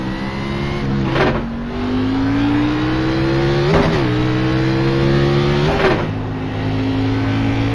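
A race car engine in iRacing at Phoenix: a steady, close, droning roar that climbs in pitch under acceleration, dipping briefly at a few gear changes before rising again.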